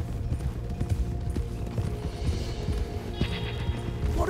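Horse hooves while riding in Red Dead Redemption 2, a rhythmic clip-clop of steady hoofbeats with creaking tack, fairly close and continuous throughout.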